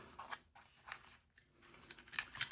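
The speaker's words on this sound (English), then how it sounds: "Might have to round that with my own scissors." Quiet, close snips of scissors cutting paper, several short crisp cuts in an uneven rhythm, with no speech.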